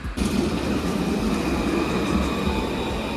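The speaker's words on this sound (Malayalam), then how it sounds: "ഇതാണ് ഇവിടുത്തെ ട്രാംവേ." A tram passes along a Bordeaux street on a cold, rainy day, a steady, loud rumble of wheels and motor close by that holds level from start to finish.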